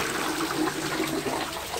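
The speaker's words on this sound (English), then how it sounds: "We'll flush the toilet." A toilet in an Ohio mobile home flushes, giving a close, continuous gurgling rush of draining and refilling water that stays steady for the whole stretch.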